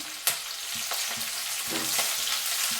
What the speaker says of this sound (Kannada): ಇವಾಗ ನಾನು ಕರ್ಬೇವು ಸೊಪ್ಪನ್ನು ಹಾಕ್ತಾಯಿದ್ದೀನಿ